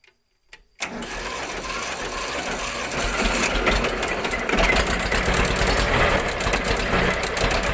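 A diesel tractor engine starts after glow plug preheating: a short click and cranking, then it catches and settles into a loud, steady, rattling idle up close.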